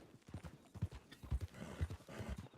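Video game horse hooves clip-clop at a steady walking rhythm in Red Dead Redemption 2 roleplay, heavy low thuds in an irregular pattern, close by with no talking.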